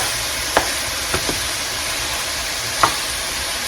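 Cold ground meat heating in a pan for a macaroni bake, with steady broadband frying sizzle throughout and a few sharp spits or utensil taps standing out; no talking.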